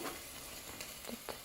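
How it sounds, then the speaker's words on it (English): Minced garlic sizzling in a hot pan for a tomato marinara sauce, a steady faint crackling hiss with small pops, heard alone. "You can hear them sizzling away."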